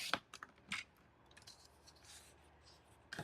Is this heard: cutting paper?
yes